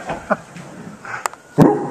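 A person's voice imitates a Labrador dog barking, giving a few short yaps and woofs in quick succession, close and fairly loud.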